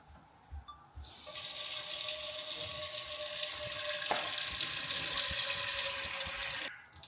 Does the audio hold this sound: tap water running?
yes